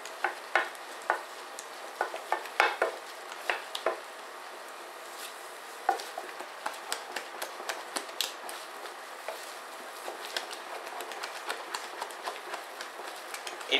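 Choux-style cheese gougère dough being stirred in a saucepan over heat, giving a continuous soft scraping and faint sizzle with frequent spoon knocks against the pan, close and steady.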